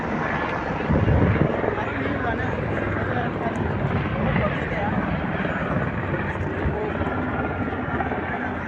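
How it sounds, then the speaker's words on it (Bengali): A helicopter flies over the mountain footpath to Kedarnath in Uttarakhand, India. Its rotor makes a steady, dense roar throughout, and people talk faintly beneath it. "হেলিকপ্টার"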